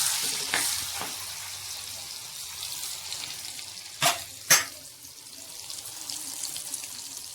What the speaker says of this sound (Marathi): वाटण केलेलं आहे ते थोडंसं परतून घेते